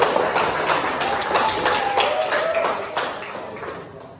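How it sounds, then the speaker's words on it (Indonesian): A room of people claps for a student named Emir during a classroom lesson, a dense, steady patter of hands lasting about four seconds before thinning out at the end. "Terima kasih Emir ya, kasih tepuk dulu"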